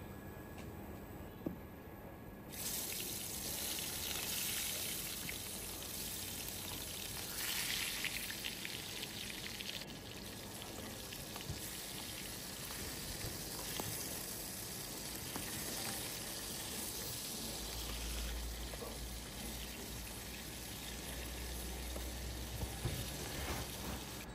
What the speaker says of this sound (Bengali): মাছটা ভেজে নেব, তাই ফ্রাই প্যানে তেল দিয়ে দিচ্ছি।